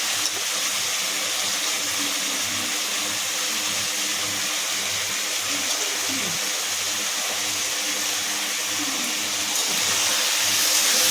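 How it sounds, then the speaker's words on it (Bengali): Water poured over cooking spices in a pan and stirred, a steady loud rushing hiss running unbroken throughout with no talk. "জল ঢেলে নিয়ে ঘেটে দেবো।"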